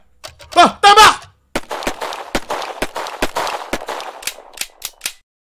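Video game gunfire: a string of about a dozen sharp single shots in a loose, uneven rhythm, loud and close, after a voice speaks at the start.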